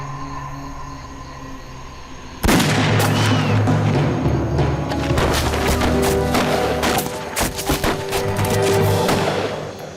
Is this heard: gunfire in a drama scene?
yes